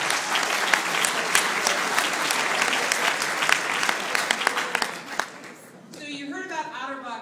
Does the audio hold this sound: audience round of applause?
yes